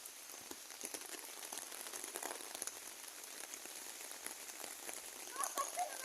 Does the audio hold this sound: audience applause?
no